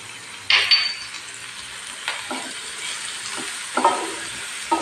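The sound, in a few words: onions and mint sautéing in a pan for cauliflower paya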